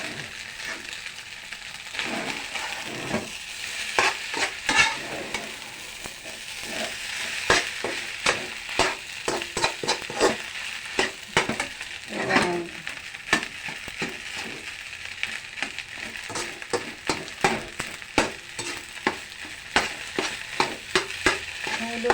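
Garlic fried rice (sinangag) sizzles and fries in a pan, with repeated clattering scrapes and clicks from stirring over a continuous hiss, close and moderately loud throughout.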